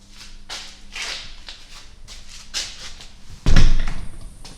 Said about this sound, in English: So now this is like inside of a metal workshop.